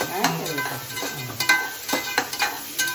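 Ingredients with curry leaves frying in a pan give a soft, continuous sizzle, while a spoon scrapes and stirs in short, repeated strokes close by.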